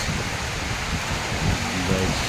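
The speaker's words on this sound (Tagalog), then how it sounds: "Tinig ng ulan." Heavy rain pours steadily near a parking lot and bridge during strong wind, a dense unbroken wash of noise with a faint voice murmuring underneath.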